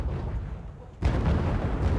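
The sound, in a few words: tank 125mm cannon firing in Wargame: Red Dragon video game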